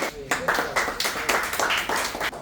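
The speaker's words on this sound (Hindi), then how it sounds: "Please put your hands together for Yuvan." Scattered hand claps from an audience at a chess and concentration workshop prize ceremony, greeting a third-prize winner, a short burst of close, uneven applause with talk over it.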